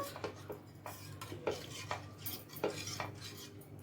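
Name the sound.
stirring with a spoon in a pan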